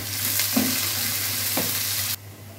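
Chopped onions hit hot oil in a pan for chicken curry, a loud continuous sizzle with a couple of stirring scrapes, the frying cutting off abruptly near the end.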